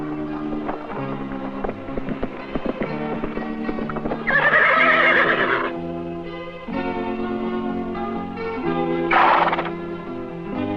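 Movie stunt horse of about 1,000 pounds: steady clip-clopping hooves with two loud, drawn-out neighs breaking in, recorded close with some wind noise.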